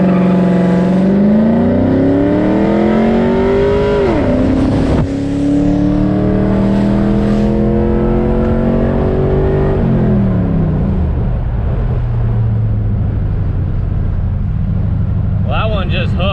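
A 1998 Pontiac Trans Am WS6, making a little over 300 horsepower at the wheels, launches hard with its tires gripping rather than spinning; the loud engine note climbs steadily through the gears, close up from inside the car.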